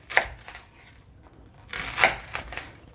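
A knife slicing meat into thin strips for tacos on a cutting board, a few soft crisp cuts in two short bursts, close and quiet.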